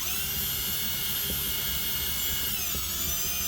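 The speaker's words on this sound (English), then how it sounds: "you can run the drill at about 3/4 trigger and run it a little bit faster" A power drill running at about three-quarter trigger, cutting with a WRD Orange Bat, whines steadily and loudly throughout, with a high-pitched continuous motor tone that shifts slightly in pitch toward the end.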